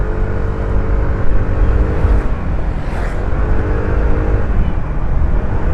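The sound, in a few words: Easy Ride 150P scooter engine and exhaust revving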